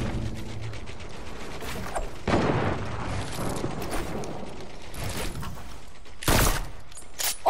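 Rapid, dense bursts of gunfire in a video game, running as a continuous crackling rattle with a few louder bursts, at a steady mid level with no talk.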